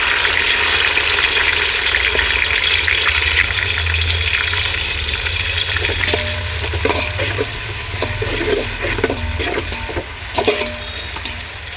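Onions and green chillies fry in oil for upma, a continuous close sizzle with light crackle throughout, easing slightly toward the end amid faint kitchen clatter.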